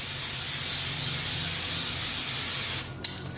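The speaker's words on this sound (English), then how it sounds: "Spray them, and then obviously you're gonna wanna like toss so they all get nice and coated." Oil sprayed from a can onto vegetables during meal prep, a steady loud close hiss that runs continuously, then cuts off and gives a few short sputtering bursts at the end.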